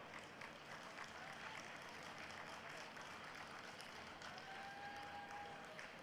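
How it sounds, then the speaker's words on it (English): An event audience at a golden jubilee celebration claps steadily, a faint, distant wash of applause that holds evenly throughout, with a few voices faintly audible underneath. "Can we have a round of applause for him?"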